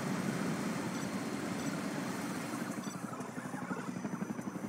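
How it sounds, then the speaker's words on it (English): Helicopter in the real-time strategy game Rise of the Reds (C&C Generals mod), a steady rotor drone holding at moderate level throughout with a faint rhythmic chop emerging toward the end, no voices. "Wait, I heard a helicopter."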